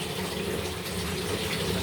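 Water gushes steadily from a tap as a valve is opened in a household plumbing setup, a continuous broadband rushing, fairly close and unbroken.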